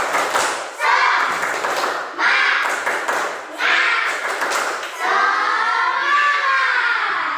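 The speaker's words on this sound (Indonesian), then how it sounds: "kita tepuk semangat dulu ya" A classroom of students performs a rhythmic clapping chant, bursts of group claps in patterned bursts with chanted voices between, loud and close, ending in a sustained sung or chanted phrase.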